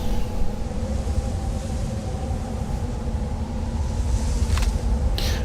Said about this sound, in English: Speaking of wind, here comes the storm.